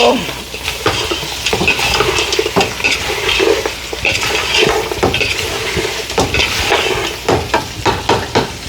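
Food frying in oil in a pan for a coconut milk dosa meal with onion, chili and curry leaves, loud close sizzling broken by repeated clinks and scrapes of a utensil stirring.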